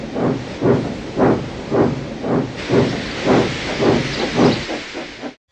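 Cartoon steam locomotive puffing in steady rhythmic chuffs with a hissy steam texture, about a dozen evenly spaced puffs, close and loud, engines Henry and Percy setting off toward the shunting yards.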